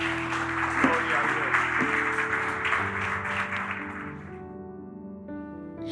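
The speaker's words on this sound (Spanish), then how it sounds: "Vamos a dar un aplauso al Señor." A church congregation applauds during a worship service, a broad wash of clapping that fades out midway, under sustained keyboard chords and a brief voice, leaving the music ringing on alone.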